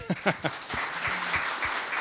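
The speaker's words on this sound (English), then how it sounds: "Can we get a round of applause for that?" An audience applauds at an onstage business conversation event, with a few sharp claps at first and then a steady, moderately distant patter of applause.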